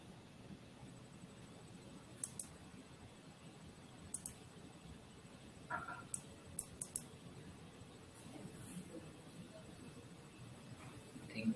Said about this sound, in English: I think Kennedy is typing.